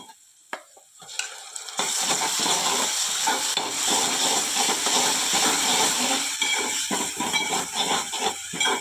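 Ground masala paste hits a pan of sautéed onions after a few quiet knocks, bursting into a loud, sustained sizzle and hiss with scraping stirs running underneath; no voices.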